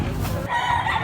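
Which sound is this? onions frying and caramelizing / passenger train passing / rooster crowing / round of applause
rooster crowing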